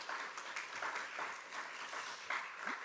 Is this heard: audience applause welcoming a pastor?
yes